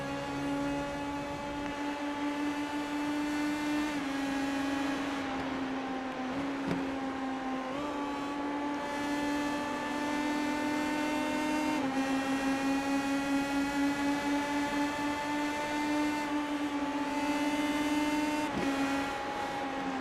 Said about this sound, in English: Interesting to hear Owens backing off and getting, I mean, they're all the way down to 4th gear in the middle of these corners